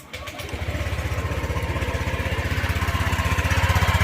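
A Honda Click scooter engine runs close by with a steady, rapid putter that grows slightly louder, idling and revving lightly.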